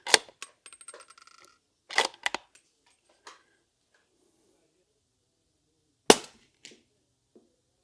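Ruger American rifle in 300 Blackout fires at a target 100 yards away, giving three sharp, loud reports spaced several seconds apart, each followed by brief clicks and handling noise.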